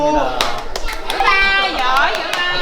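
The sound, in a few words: children clapping hands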